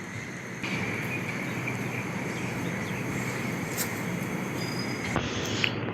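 A train rolls into Anaparthi railway station with a steady, loud rumble of wheels and carriages that holds for the whole stretch. Faint squeals and clanks show near the end.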